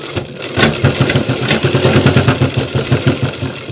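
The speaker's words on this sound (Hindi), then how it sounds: "यहाँ पे इस तरीके से सिलाई करना है" Sewing machine stitching a simple single-welt pocket, running as a steady mechanical hum with a fast, even stitching rhythm, close and fairly loud, with no speech.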